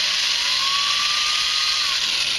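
A power drill bores a hole into the wood of a handmade Native American drone flute, giving a steady, loud, high-pitched whine over continuous grinding noise.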